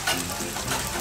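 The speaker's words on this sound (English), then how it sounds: "He's stir frying the chicken for the omurice dish." Chicken stir-frying for omurice in a busy Japanese menchi katsu restaurant kitchen: loud, close, continuous sizzling with stirring scrapes, and no talk.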